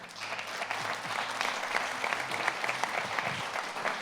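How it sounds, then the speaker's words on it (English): Audience at a Magento e-commerce conference applauding to welcome a speaker on stage, a fairly quiet but dense patter of clapping with some low voices mixed in. "I'm very happy to introduce to you with a big round of applause to Katy Wilson."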